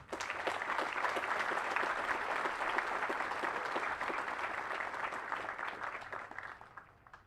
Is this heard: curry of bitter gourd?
no